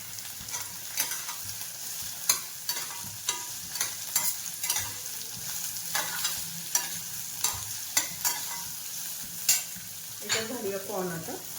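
Broccoli with capsicum sautés in a hot pan, a soft constant sizzle punctuated by regular sharp clinks and scrapes of a spatula stirring, close and moderately loud, with no talk.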